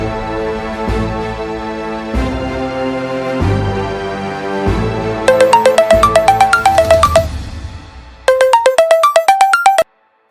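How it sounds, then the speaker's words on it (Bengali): A telephone ringtone for an incoming call plays loud and alone: a low tonal melody in steady pulses for about five seconds, then bright beeping chime phrases repeating in two bursts before a sudden cutoff. "আমি থানায় ফোন করে দিচ্ছি"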